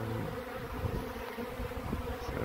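A dense, steady buzz of many feral honey bees swarming close by during a hive removal, continuous and even throughout with no talking.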